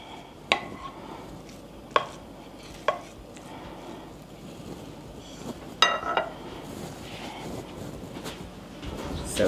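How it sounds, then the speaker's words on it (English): A spoon spreads and smooths a vegan egg-free casserole mixture in a 9x13 pan, giving several sharp taps and clicks against the pan between soft scraping, close and steady. "We're going to spread this out and kind of smooth it out"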